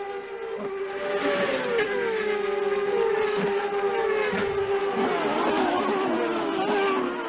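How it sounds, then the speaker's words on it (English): IndyCar race cars at Laguna Seca in a late-race battle, engines screaming at high pitch with rising and falling tones as several cars pass close by, a continuous loud roar of overlapping motors. "Herta goes off the track, is passed by the 3rd, 4th, 5th, and 6th place cars"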